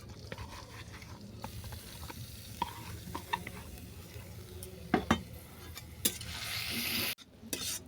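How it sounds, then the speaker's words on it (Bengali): Cauliflower fries gently in melted ghee over low heat, a soft steady sizzle with scattered clinks and scrapes of stirring against the pan. "ফুলকপিটাকে আমি 5 মিনিট ধরে মৃদু আঁচে ভেজে নেব, যেন বাদামি রং না ধরে।"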